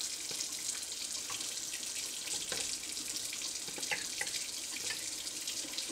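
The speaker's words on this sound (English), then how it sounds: "grab the ladle and go ahead and submerge this one" Water swishing and sloshing as a glass candle jar is pushed under with a ladle while wax is being cleaned off, a faint, steady watery wash with soft clinks and splashes throughout.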